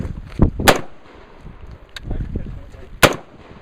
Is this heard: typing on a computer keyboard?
no